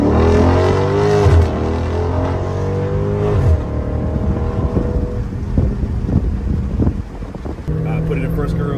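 A 500-horsepower Dodge Charger Scat Pack engine rumbles and revs up under load with rising pulls, then eases off and shifts, with wind buffeting the microphone and a voice speaking over it.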